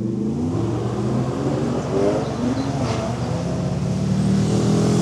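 A motorcycle, ridden out in Sport Plus mode, accelerates away with a loud, rising engine roar that holds steady through the whole stretch, with no voices over it.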